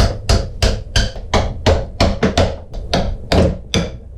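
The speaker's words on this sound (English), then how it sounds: "I grab a couple of shims and my hammer and tip this up and find a spot where I can start driving them apart" Hammer blows drive shims into a wooden boat plank to pry it loose, a steady run of about thirteen sharp, close knocks at roughly three per second, each ringing briefly.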